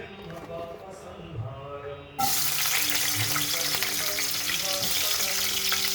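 Ginger hits hot oil in a pan and a loud, steady sizzle bursts in partway through, continuing unbroken after a quieter stretch of faint kitchen clatter and tones.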